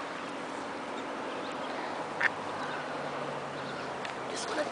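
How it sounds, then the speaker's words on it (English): Small fluffy ducklings peep and quack close by in a soft, steady chorus, with one sharper chirp standing out near the middle. "Little ducky."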